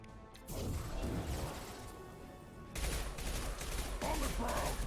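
SMG fire in the Mass Effect video game: dense bursts of rapid shots and impacts in two loud stretches separated by a brief lull, mixed with game noise.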